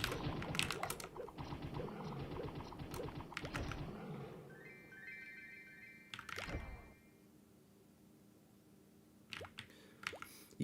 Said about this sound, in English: I know you can hear my keyboard.